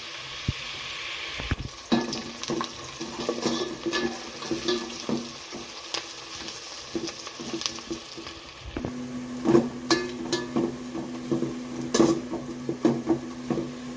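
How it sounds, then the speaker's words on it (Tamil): Plenty of onions frying to brown in a pan for Chettinad mutton biryani give a continuous close sizzle, with frequent stirring scrapes and clinks and no talk. "வெங்காயம் நல்லா ப்ரௌன் கலர் வர வரைக்கும் நல்லா வதங்கி வரட்டும்"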